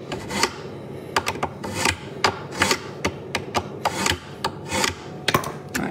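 A small handheld knife-sharpener gadget rasps as a blade is drawn through it, making repeated short scraping strokes in an uneven rhythm, close and fairly loud, with no talking.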